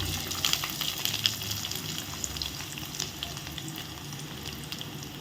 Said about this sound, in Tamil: இப்போ கடுகு வெடிக்கிற ஸ்டேஜ் வந்துருச்சு